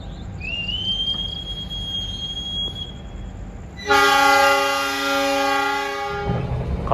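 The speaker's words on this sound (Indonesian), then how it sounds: "Kereta lain melintas langsung." A train rumbles past nearby with a squeal, then a loud, sustained horn blares for about two seconds before the rumbling continues.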